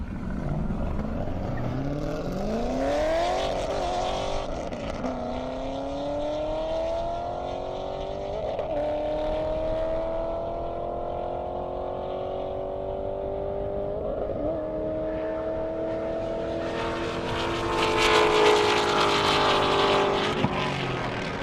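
Drag racing cars including a Corvette and a Mustang on a half-mile airport airstrip: a loud engine roars and climbs in pitch through several gear shifts over a sustained run, then another burst of engine noise builds near the end.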